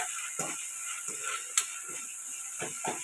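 Egg noodles tossed with spices in a hot frying pan, with soft spoon scrapes and stirring strokes repeating every half second or so over a steady background hiss.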